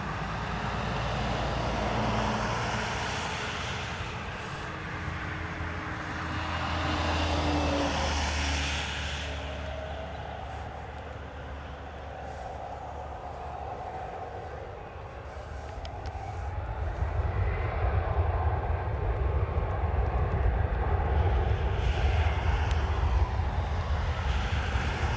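An airliner on takeoff roll from runway 10 right at Dublin Airport, a broad jet-engine roar that swells and fades, then builds into a steady, louder rumble toward the end.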